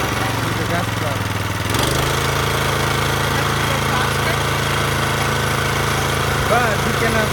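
A gas lawn mower engine runs steadily, its droning hum rising slightly as the throttle is opened, loud and close throughout without pause.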